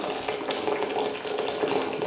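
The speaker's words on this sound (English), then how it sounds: "I'm just going to use a kettle of hot water, boiling hot water." Boiling water poured from a kettle onto tomatoes in a kitchen, a continuous close splashing and gurgling pour that holds steady throughout with no talk.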